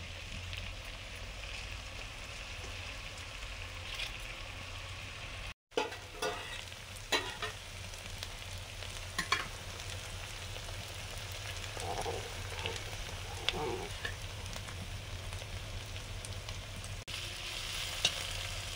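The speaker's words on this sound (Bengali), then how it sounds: "গাজর ভাজা হয়ে গেছে" Carrots frying in a pan, a soft continuous sizzle with occasional light stirring scrapes and clicks, close but fairly quiet, with one brief dropout.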